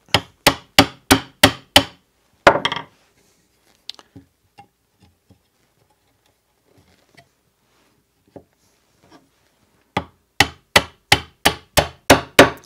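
Sharp wooden knocks of a mallet driving a wood chisel to pare excess material on a workbench, a quick run of five or six evenly spaced strikes, a quiet pause with faint handling sounds, then another brisk series of strikes.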